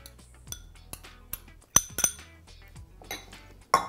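Chopped gherkins stirred into grated carrot and beetroot slaw, heard as a spoon clinking and scraping against a bowl in irregular taps, a few sharper knocks standing out, with no talking.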